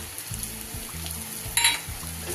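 Onions and ground spices, coriander, cumin, turmeric and Kashmiri chilli, frying in a pan for chicken dopeyaza, with a faint steady sizzle and low rhythmic scraping of a spatula, plus one brief brighter clink, close and without talk.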